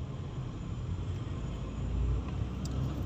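A car creeps along a narrow road at about 10 km/h in first gear, a low steady engine rumble with road noise, close and unbroken, without talk.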